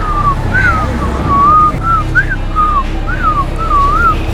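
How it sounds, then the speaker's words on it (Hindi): A person whistles a lilting tune of short rising and falling phrases, clear and close, over a low background rumble with no talking. "उसको देख के सीटी नहीं बजाई, वैसी सीटी बजा रहा हूँ"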